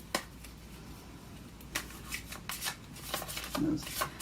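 Tarot cards being shuffled close by in quick riffles and soft flicks, a few sharper snaps among them, fairly quiet with no speech.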